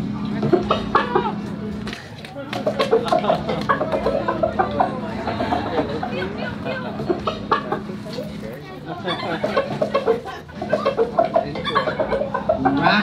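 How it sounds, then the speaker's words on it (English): Hens cluck and chatter close by while several people talk and cheer over them, the clucking running underneath the voices. "we'd also like to introduce the chickens"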